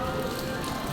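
Heavy rain pouring down in a steady, dense hiss, loud and close, with no voices during the brief burst.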